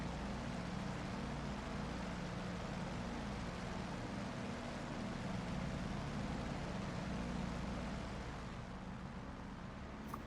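An F4U-1D Corsair's engine in a flight game, throttled back to idle, a steady low droning hum with a faint airy wash, fairly quiet and continuous, easing slightly near the end with no voices.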